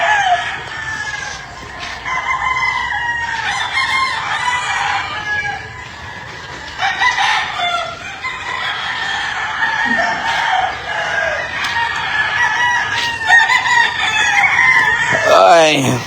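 Roosters crow repeatedly over a steady chorus of clucking hens, loud and close, with several birds calling throughout.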